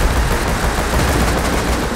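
Dense gunfire in the survival game Rust, loud rapid bursts merging into an almost continuous crackling roar, close and unbroken for the whole stretch.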